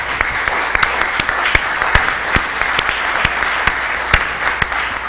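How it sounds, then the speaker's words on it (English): Steady applause from the audience at a city council meeting, a full, even wash of clapping with a few sharper claps standing out close by, with no talking over it. "a round of applause for the good work they do"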